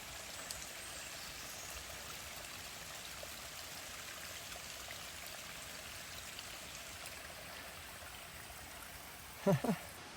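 A mountain stream flows beside the Appalachian Trail in a steady, even rush of water that holds the same level throughout, with a brief pair of louder knocks near the end.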